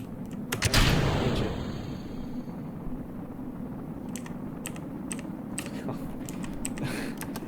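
Computer keyboard keys clatter in scattered quick clicks and short bursts while playing Kerbal Space Program, heard close over a steady low rumble of game engine noise.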